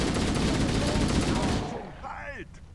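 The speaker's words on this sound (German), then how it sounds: "Dann schießen wir halt so." Gunfire from the video game Halo, a dense rapid burst of loud shots for over a second, then fading out as a brief voice is heard.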